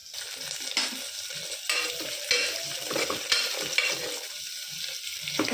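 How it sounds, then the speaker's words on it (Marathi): Onion, potatoes, peas, garlic and peanuts frying in oil with mustard seeds and cumin, close crackling sizzle with repeated scraping stirs of a spatula in the pan, no talk. "मोहरी आणि जिरे गरम झाल्यावर कांदा, बटाटे, वटाणे, लसूण, शेंगदाणे हे सर्व टाकावे."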